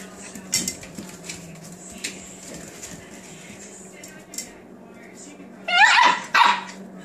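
Seven-week-old puppies at play, giving scattered sharp little yips and barks with a clatter of dishes, then a louder burst of barking near the end while a person talks over them.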